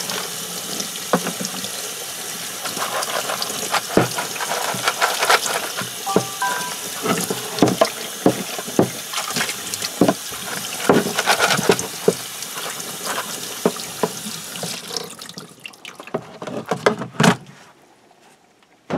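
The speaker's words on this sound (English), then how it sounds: "Rinse the chain." Water pours and splashes steadily from a tap while a bicycle chain is rinsed in it, with busy close splashing and clinks that stop abruptly near the end.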